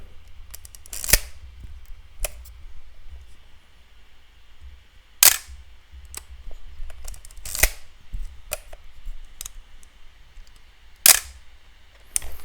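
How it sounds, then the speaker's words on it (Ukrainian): Shutter releases and film-advance winding of a 1980s Praktika MTL 5B film SLR, a handful of sharp mechanical clicks and rasps spaced a few seconds apart over quiet room hiss, close and alone. "Дуже подобається саме звуки старих фотоапаратів."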